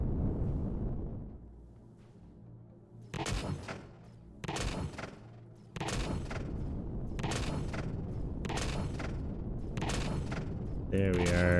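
Spaceship turrets fire in Empyrion Galactic Survival: repeated bursts of sharp mechanical gunfire come in spaced volleys, and a steady low engine drone sits underneath.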